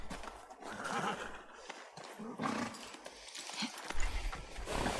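Horse whinnying and hooves clip-clopping in the video game The Last of Us Part 2, a loud neigh over steady hoof beats and game ambience, with the whinny rising again near the end.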